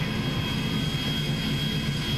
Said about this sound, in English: Come to me and I'm gonna pick you up in this airplane.